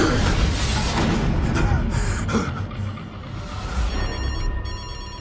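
A telephone rings repeatedly under a dramatic film score in a thriller scene, with the repeating electronic ring tone growing clearer toward the end.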